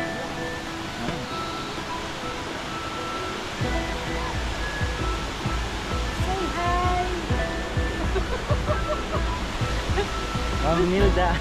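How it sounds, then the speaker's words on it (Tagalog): Digisit Falls, a waterfall near Digisit Beach in Baler, gives a steady broadband roar of rushing water that grows fuller partway through, with faint voices underneath. "Ito yung Digisit Falls."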